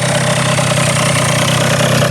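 A Honda Dio RR50 Repsol scooter with a modified engine idles close by in a steady, loud buzzing hum that stays even throughout the short stretch.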